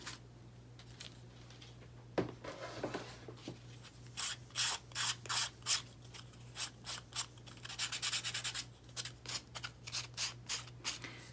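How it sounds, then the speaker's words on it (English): A cheap handheld buffing block is rubbed over a freshly cut surface in a painted craft project, making quiet, rhythmic scratchy strokes in short, regular bursts against a low background hum. No talking. "I'm just going to take my block and smooth it out"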